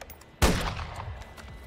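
A single loud, close gunshot with a long rolling echo from a sniper rifle in Call of Duty: Modern Warfare III, set in Verdansk, with faint game noise before it.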